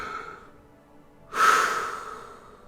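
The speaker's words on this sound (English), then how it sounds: "Heavy breathing." Heavy breathing, a single close, audible breathy exhale or snort rising sharply after a quiet stretch and then fading slowly, with no talk.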